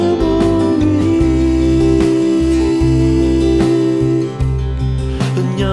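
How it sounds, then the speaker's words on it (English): The end chorus of a full song plays back at a loud, steady level, a dense produced mix with a pounding low end and sustained layered parts filling the whole short stretch, with no one talking over it. "So I'm going to use the end chorus of this song,"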